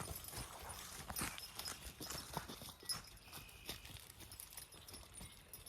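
Hooves of a Belgian draft horse in early training clip-clop steadily as it is line driven outdoors, a continuous walking rhythm of moderate, fairly close footfalls with no talking.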